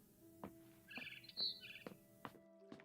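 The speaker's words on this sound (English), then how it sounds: "Then I heard chirping outside my window." Faint chirps of a barn swallow in the video game What Remains of Edith Finch, with short bird calls and tweets scattered over a soft ambient game tone.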